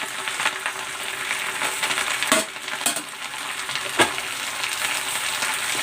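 Camote leaves in a hot pan sizzle and crackle steadily as hot water is added, with sharp bursts of spitting and a continuous frying hiss close by.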